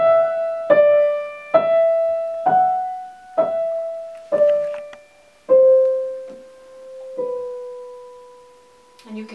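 Rachmaninoff Prelude Op. 32 No. 5 on piano, a soft right-hand melodic line of seven single notes played slowly, each struck and left to ring and decay, alone without speech.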